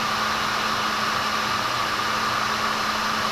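A Bauer 20 volt cordless heat gun blows hot air to melt material, giving a steady, close, breathy fan roar throughout.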